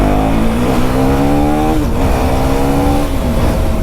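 A 2024 KTM Duke 390 single-cylinder motorcycle sets off hard, its engine note climbing steadily through the revs in one loud, close pull before dropping at a shift and rising again, with no talk over it.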